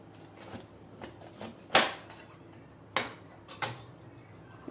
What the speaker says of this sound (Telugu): ఒక క్యాప్సికమ్ తీసుకున్నాను చాలా పెద్దగా ఉంది ఇది ఇప్పుడు దీనిలో కొంచెం కట్ చేసుకొని విత్తనాలని తీసేద్దాం